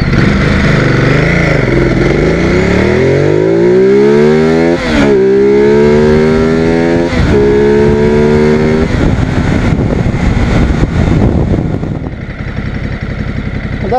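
A Ducati Multistrada 950 motorcycle pulls away from a start in touring mode, its loud engine climbing through revs with rising pitch, brief dips at each gear change, then easing off near the end.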